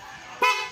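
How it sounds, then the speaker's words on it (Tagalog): A short, sharp Honda Click V2 scooter horn beep cuts in abruptly after a faint background hum, close and loud, lasting under half a second. "kapag bumusina ho tayo, may kasama pong passing po yan"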